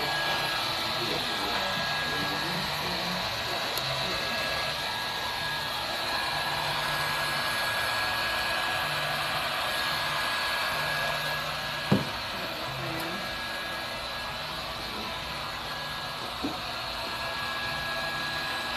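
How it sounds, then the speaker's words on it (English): A heat gun blowing over epoxy gives a steady, even whirring hiss for the whole stretch, with one faint knock partway through. "You got a heat gun here?"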